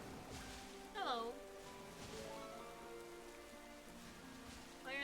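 Soft, steady rain patters quietly in the Pokemon Violet video game, a faint hiss beneath chirpy creature cries and a voice talking.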